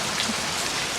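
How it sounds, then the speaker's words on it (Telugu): Heavy rain pours down in a steady, dense hiss with no pause, close and loud, with no voices. "వర్షం బాగా పడుతుంది కదా"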